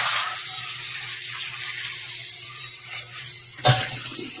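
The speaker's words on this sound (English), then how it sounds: "Let me pull this off and rinse it." Water runs steadily from a kitchen tap as something is rinsed during Thanksgiving side-dish cooking, a continuous hiss that ends in a sharp clatter near the finish, with no voices.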